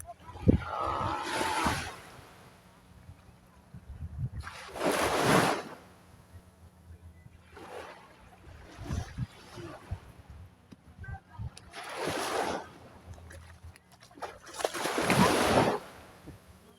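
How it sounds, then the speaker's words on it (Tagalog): Strong sea waves crash against the shore in repeated loud surges roughly every few seconds, with wind and someone talking between them. "Malakas na ang ampas ng alon mga guys."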